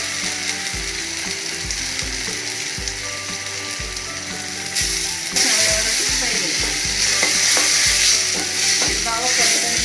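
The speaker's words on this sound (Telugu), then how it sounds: "బాగా 2-3 నిమిషాలు ఫ్రై చేస్తాం." A ground paste of coriander, ginger, garlic and green chili fries in a pan with a loud, dense sizzle. Rhythmic scraping and stirring strokes run throughout, and the sizzle swells louder partway through.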